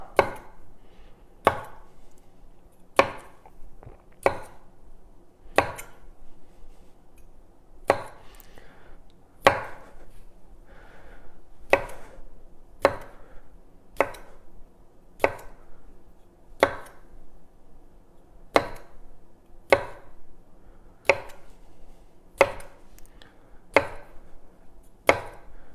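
Tomatoes are chopped on a cutting board with a steady series of crisp knife knocks, roughly one every one to two seconds, close and clear with no talking.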